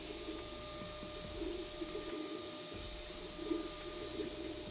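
An FLSun S1 3D printer prints a Benchy at high speed, giving a steady, loud whooshing hum of fans and motors with a faint constant high whine, running continuously and evenly with no speech.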